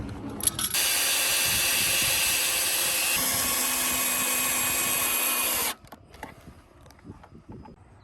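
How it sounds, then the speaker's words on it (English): A power drill drives screws to fix an aluminum top rail section of a deck railing: one loud continuous whirring buzz of about five seconds, nearby, dropping pitch slightly partway, then cutting off to quiet handling clicks. "And now we're gonna screw the top rail section into place."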